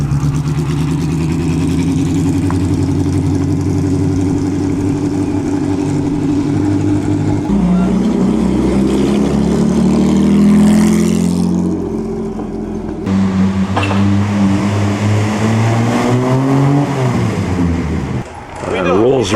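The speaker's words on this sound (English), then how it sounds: "here's the Ferrari" Ferrari arriving at a 2011 concours d'elegance, its engine humming steadily then rising and revving as it rolls in nearby, with a commentator speaking over it.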